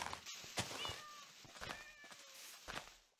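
Minecraft cats meowing nearby; several short, rising meows in quick succession with soft shuffling between them.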